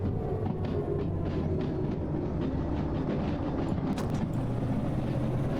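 A diesel-electric DM locomotive running in Derail Valley, a steady loud engine drone with rhythmic rail clatter underneath, continuous and close from the cab.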